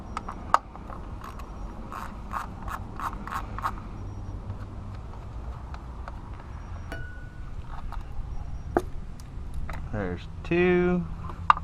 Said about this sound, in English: now we can start pulling the plugs